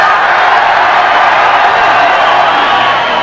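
Dense, steady roar of a crowd at a 1987 women's wrestling match in Paris, France, cheering continuously at full loudness for a few seconds with no pauses.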